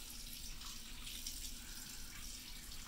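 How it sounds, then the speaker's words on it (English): Cool water runs steadily from a sink tap in a care setting while rinsing dentures, a continuous broadband hiss at moderate level with no talking. "Turn on your water. It needs to be cool."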